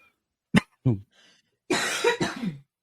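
Two short sharp coughs, a pause, then a longer, harsher fit of coughing, close and loud with no talking.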